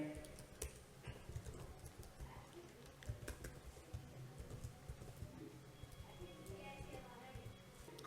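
Someone types on a computer keyboard while writing HTML code, producing faint, scattered clicks at a low level beneath a steady background hiss and a quiet voice.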